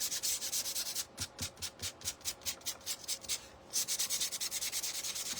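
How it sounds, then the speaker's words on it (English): Sandpaper rubbed by hand over a painted wooden cutting board, a steady run of close, rhythmic back-and-forth strokes with a short pause midway before the scrubbing resumes. "I'm going to sand that just a little bit and straighten out my color."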